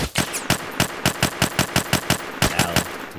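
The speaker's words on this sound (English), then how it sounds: "Stop shooting me!" Automatic gunfire aimed at the player in a video game, loud and close, a steady rapid string of about a dozen evenly spaced shots with a brief gap before a final burst, with no voices.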